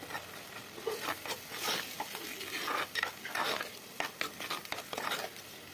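A spoon stirs roasted ground spice powder into a chicken curry in a pot, with close, irregular scraping and clinking against the pot that continues throughout alongside a faint sizzle.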